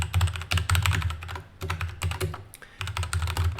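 Rapid keystrokes on a computer keyboard while writing parser code, a close, steady clatter in bursts with brief pauses, no voices.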